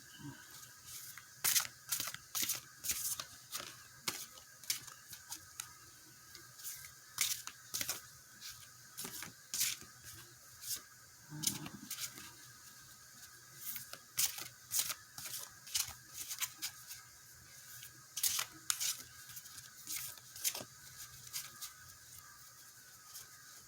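Playing cards are shuffled slowly by hand, giving quiet, irregular clicks and soft riffling snaps spread across a long stretch without speech.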